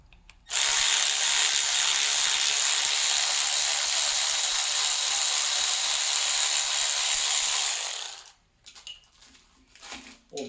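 A ratchet runs on connecting rod bolts of a 1999 Ford Mustang Cobra engine. It gives a loud, unbroken high-pitched buzzing whir for about eight seconds, then cuts off into a few faint clicks.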